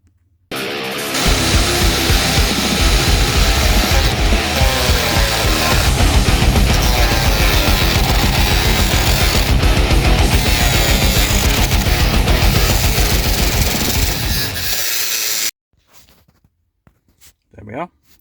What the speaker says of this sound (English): get my grinder, belt sander, and I'm going to cut it out